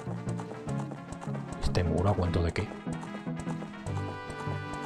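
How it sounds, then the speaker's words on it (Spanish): Horse galloping in The Legend of Zelda: Ocarina of Time on 3DS, a quick rhythmic clip-clop of hooves mixed under game music while someone talks over it. "Sí, ha sonado el caballo"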